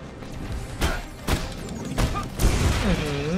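Several sharp gunshot bursts in the video game Marvel's Avengers, spaced about half a second apart over steady background noise, with a voice briefly exclaiming near the end.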